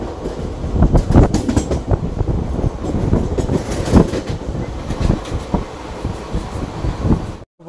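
The Haldibari-Kolkata Intercity express rolls along the rails with a steady rumble and irregular clattering wheel beats, heard loud and close from on board with some wind buffeting and no talking.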